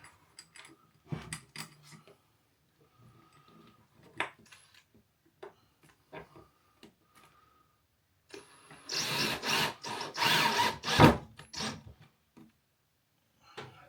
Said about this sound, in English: All it is screwing bits to a board